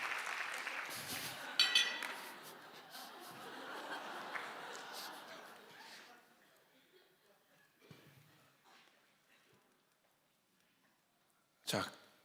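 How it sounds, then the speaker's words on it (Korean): A congregation at a church revival meeting claps softly, mixed with light laughter; the applause fades out over several seconds into near silence, with a sharp clink at the end. "우리 박수 한번 쳐주시기 바랍니다"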